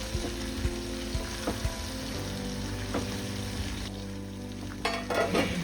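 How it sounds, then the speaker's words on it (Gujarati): Marinated paneer sabji frying in oil that has separated in a pan, with a steady close sizzle and occasional scraping clicks from stirring, no voices. "આપણે જે મેરિનેટ કરી હતી સબ્જી એમાં તેલ છૂટું પડ્યા પછી આમાં એડ કરી લઈશું અને તેને સારી રીતે મિક્સ કરી લઈશું"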